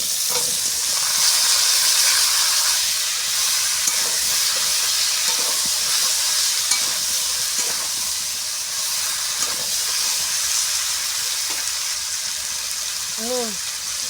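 Vegetables sizzle and hiss steadily in a hot pan, with a continuous loud frying crackle throughout and occasional faint stirring sounds.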